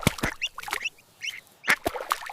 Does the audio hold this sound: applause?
no